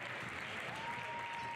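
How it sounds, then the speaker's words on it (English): Crowd noise from spectators at a Northern Burlington versus Doane Academy high school boys basketball game, a steady dense roar of cheering and clapping held throughout without pause. "the crowd is fired up"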